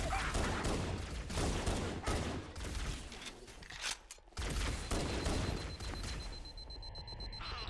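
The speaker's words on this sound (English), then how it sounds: "Stop shooting me." Enemy gunfire in the Halo video game, rapid bursts of shots repeating through most of the stretch, loud and close, with a brief lull partway before the shooting resumes and a beeping tone near the end.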